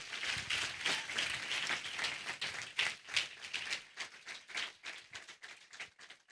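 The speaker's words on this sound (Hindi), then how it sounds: "ताली बजा के प्रभु को धन्यवाद दीजिए।" A church congregation claps to give thanks to God, a fairly close burst of scattered hand claps that starts dense and thins into uneven, irregular claps before fading.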